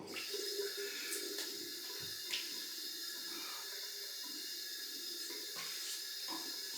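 Steady running tap water with a safety razor being rinsed under the stream, a continuous bright hiss broken by a few soft knocks and splashes as the razor moves through the flow.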